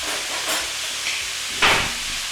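Beef steak browning in a hot pan with spices, with a dense, steady sizzle and frying hiss throughout and brief swells as the meat is stirred, close and loud.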